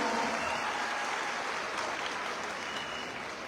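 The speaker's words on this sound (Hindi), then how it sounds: "एक बार जोरदार तालियां इन 17 वर्षों के लिए" Audience applause at a company's 17th-anniversary business seminar: dense, even clapping from many hands fills the room throughout, steady and fairly distant, with no speech over it.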